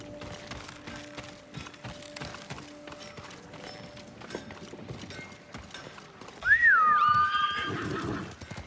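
A horse whinnies loudly in the Ghost of Tsushima video game, a rising-then-falling neigh near the end, with scattered hoof clip-clops and ambient game effects earlier.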